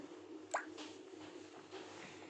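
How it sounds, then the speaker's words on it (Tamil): Marinated chicken drops into a pan of mint green gravy, giving one wet squish and plop, followed by quieter soft, moist bubbling and shifting with no voices. "அதுக்கப்புறம் நம்ம மிக்ஸ் பண்ணி வச்சுருந்த அந்த சிக்கன் அதை ஆட் பண்ணிக்கலாம்."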